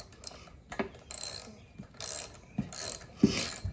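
A socket wrench ratchets out the spark plug of a Craftsman M110 push lawn mower, giving several short bursts of rapid metallic clicking separated by brief pauses, close and fairly quiet.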